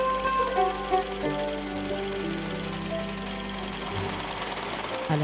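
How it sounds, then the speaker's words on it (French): Sewing machines run steadily in a workshop of a women's cooperative in Niger, a dense mechanical whirr with rhythmic tonal hums filling the room, fairly close and continuous with faint voices underneath. "les machines à coudre rythment leur journée de travail"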